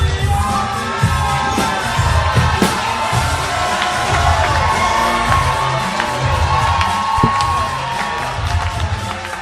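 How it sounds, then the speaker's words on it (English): A live comedy club audience at a Houston show cheers, whoops and shouts loudly as the final comedian is called to the stage, a dense, sustained roar of crowd noise. "Make some noise for Billy Cox."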